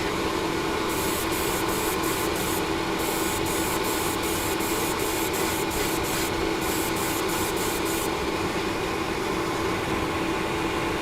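An airbrush sprays Vallejo grey surface primer onto a model as a steady close hiss. A faint rhythmic ticking pulses through the upper part of the sound.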